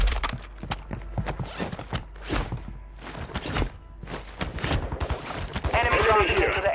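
Gunfire in a Call of Duty Warzone Resurgence match: rapid bursts of shots and impacts through the clip, with a dense fast-firing stretch at the end, under game radio callouts and music.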